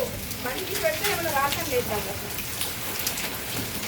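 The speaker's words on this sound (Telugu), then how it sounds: "మళ్ళీ పెద్ద పెద్ద రాళ్ళు పడుతున్నాయి" Large hailstones falling in an open rural area during a hailstorm, a dense steady patter of hard impacts with scattered sharper hits, close by, while a person talks over it.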